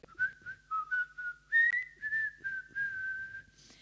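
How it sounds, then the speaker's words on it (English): A person whistles sideways into a microphone, playing a lively tune of short phrases and held notes, close and clear with no talking. "If you have to do a whistle, you do it sideways."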